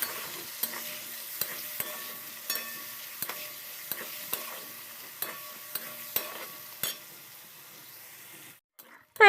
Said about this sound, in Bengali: এবার পেঁয়াজ ভাজাটা বসিয়ে দিলাম